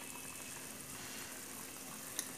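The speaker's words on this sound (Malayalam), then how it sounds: "കറി കണ്ടോ നന്നായി തിളച്ച് വന്നിട്ടുണ്ട്" Mango curry bubbling in a pot on the stove: a soft, steady simmering hiss with faint popping, fairly quiet and close, plus one brief louder tick near the end.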